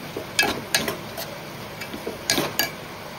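A metal spoon scrapes and clinks against a pan while fenugreek leaves and garlic are stirred, giving several quick, bright knocks in short bursts over a low background hiss.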